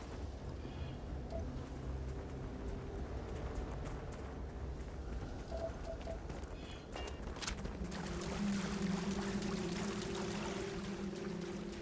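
Water flowing in the space exploration game Starfield, a soft continuous rushing and trickling stream at low level that swells slightly louder toward the end, with no talk over it.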